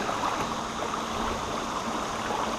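Shallow river rapids run over rocks, a continuous moderate rushing and burbling of flowing water heard close by from a paddleboard, with no talk.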